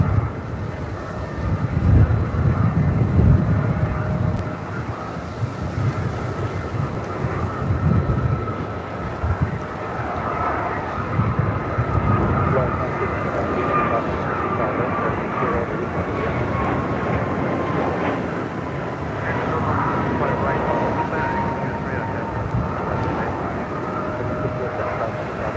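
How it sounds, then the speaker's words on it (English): An American Airlines A321neo jet takes off from runway 25 right at LAX, a steady broad engine roar with a faint rising whine held at a distance for the whole stretch, mixed with wind buffeting on the microphone. "Next takeoff here on the south side on 25 right. American Airlines Flight 345 heading to Miami."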